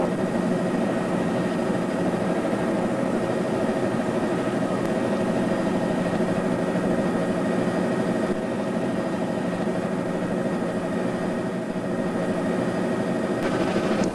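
Aircraft engine during climb-out at about 60 knots, a loud, steady droning hum that holds evenly for the whole stretch with no voices.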